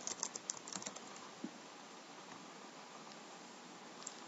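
Quick bursts of typing on a computer keyboard, a cluster of faint clicks at first that thins out to scattered taps over a quiet hiss.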